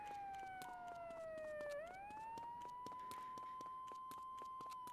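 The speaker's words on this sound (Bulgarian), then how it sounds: "къде идва тази пожарна ли, какво е?" Fire truck siren in Grand Theft Auto III, a continuous wailing tone that sweeps down then rises and holds steady, heard amid a rapid clatter of clicking game sounds, moderately loud with no talk.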